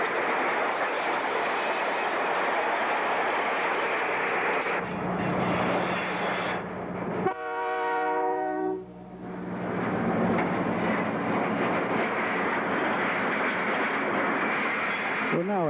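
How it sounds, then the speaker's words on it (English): Ontario Northland train number 211 rolls past in winter on its way to Noranda, Quebec, a sustained loud roar with a horn-like tonal blast partway through, heard close and continuous. "once again number 211 goes by on its way to Noranda,"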